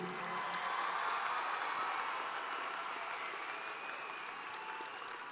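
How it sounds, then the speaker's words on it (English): Round of applause from a large crowd in a high school graduation arena, dense and steady clapping with a distant, reverberant quality, slowly tapering toward the end. "let's give everybody here another round of applause, please"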